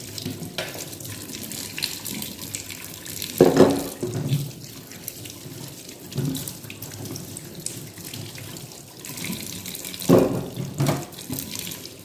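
Water pours steadily from a kitchen tap into a sink for a long stretch, with occasional louder splashes as a pot is put under the flow.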